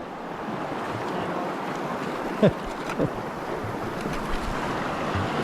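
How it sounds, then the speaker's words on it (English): Rushing river rapids heard from a packraft, a continuous loud churn of turbulent water with wind buffeting the microphone and a couple of brief splashes or knocks partway through. "We're just doing a good rapid section."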